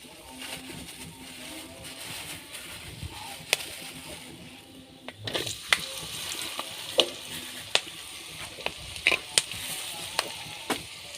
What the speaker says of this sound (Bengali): আমি সম্পূর্ণ তেলে রান্না করবো সামাইটা আমি তেল দিয়ে দিয়েছি সয়াবিন তেল আছে আর দারুচিনি দিয়ে দিয়েছি